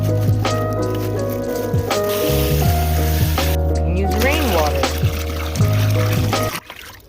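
Water poured into a container to make a granular fertilizer tea, a continuous splashing and trickling pour with rising filling tones, ending abruptly, with some room noise.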